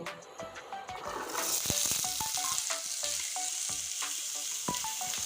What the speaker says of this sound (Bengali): সর্ষের তেল দিয়ে দিচ্ছি এবার এই আলুটা এখন ভেজে নেব